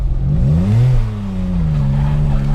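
A car engine revs up and down with rising and falling pitch, loud and close, with a steady mechanical drone underneath.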